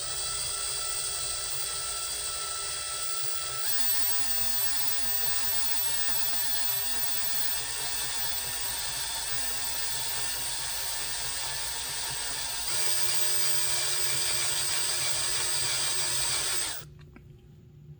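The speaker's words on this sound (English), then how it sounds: "the drill was actually able to penetrate into the metal" A high-pitched drill with a 7/32-inch HSS bit drilling into metal whines steadily and loudly for a long stretch, its pitch shifting slightly partway through, then cutting off abruptly near the end.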